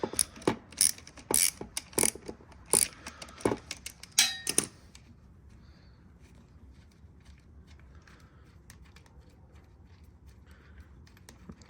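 Long carburetor screws being loosened on a Mercury 50hp four-stroke outboard, a burst of sharp ratcheting clicks over the first four seconds, then only faint handling noise.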